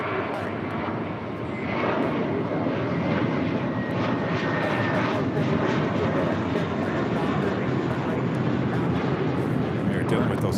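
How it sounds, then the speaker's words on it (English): An American Airlines Boeing 737-800 from Chicago O'Hare touches down at LAX on the south side, its engines giving a sustained, loud rumble with a brief dip near the start, while a voice talks over it. "American Airlines Flight 516 coming in from Chicago O'Hare, 737-800. Touching down here on the south side."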